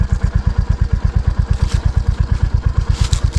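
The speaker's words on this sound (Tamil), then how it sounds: "வண்டி பிரேக் போட்டால் கூட நிற்காதுங்க இந்த மாதிரியான மண்டோட்டில்." A vehicle descending a steep, slippery mud slope, its engine chugging in a steady, rapid low rhythm throughout, close and fairly loud, with faint clatter on top.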